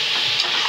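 Water hits frying bhetki fish curry masala in hot oil, raising a brief, loud, close burst of sizzling hiss with no talking.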